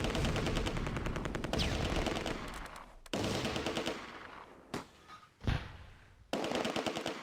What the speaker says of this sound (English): The rifle section to the northeast targets a heavy machine gun squad in the open.